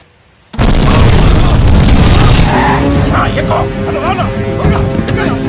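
A sudden loud boom erupts after a short quiet moment, followed by a sustained roaring rumble with crackling debris and voices mixed into the din.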